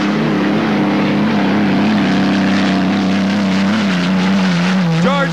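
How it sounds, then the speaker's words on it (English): Unlimited hydroplane race boats powered by Merlin engines roar past in the 1984 Tri-Cities Gold Cup final heat, a loud, steady droning engine howl with a slowly wavering pitch and a sharp rising whine at the end, under faint commentary. "George Johnson, also in a Lucero design and build hull. With the Merlin engines, he's moving into second place"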